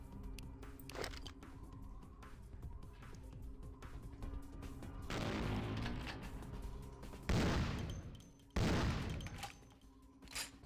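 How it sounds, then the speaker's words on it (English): Machine gun fire in the 2004 PC game Vampire: The Masquerade - Bloodlines, sustained bursts of rapid shots with louder surges and crunchy impacts, up close against a busy background. "Why is that machine gun fire tearing me up so much?"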